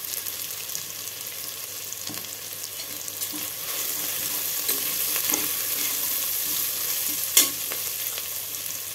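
Sautéing ingredients in a pan for a Kongunadu rice and lentil one-pot dish, a continuous close sizzle broken by occasional scrapes and stirring knocks, with one sharp clink near the end and no voices.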